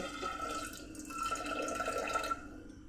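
Water is poured steadily into a bowl of soaked lentils for tadka dal, a continuous soft splashing pour heard close up with no voices.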